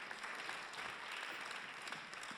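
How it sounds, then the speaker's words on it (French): An audience at a French conference event claps steadily in a dense, even wash of applause that is faint and distant and continues throughout without a break. "on peut les applaudir pour les encourager"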